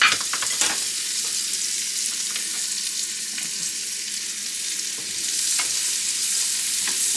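Chopped onion frying with a steady broadband sizzle in a stir-fry pan for a single-serving protein and vegetable stir-fry, with scattered stirring clicks and scrapes across the hiss, continuous and close.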